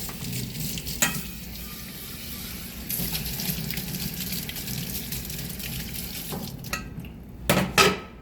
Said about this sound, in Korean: 그래서 찬물에 헹궈요